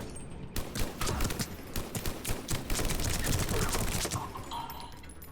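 Turret gunfire in Mass Effect Legendary Edition comes as a loud, dense stream of rapid shots. It holds for about four seconds and then breaks off into quieter noise.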